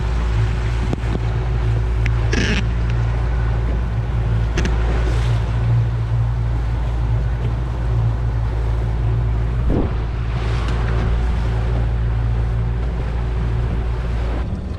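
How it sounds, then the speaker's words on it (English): A fishing boat idles slowly out of a Southern California harbor on calm water, its engine a steady low drone throughout, with a few faint knocks and splashes on top. "right now, we're idling out of the harbor and it is just slack out here"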